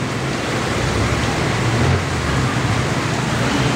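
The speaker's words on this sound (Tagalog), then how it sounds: "Mga isang oras na itong ulan na ito." Steady, dense rain hiss fills the whole stretch without a break, broadband and constant, with a low rumble underneath like water pouring onto a flooded surface.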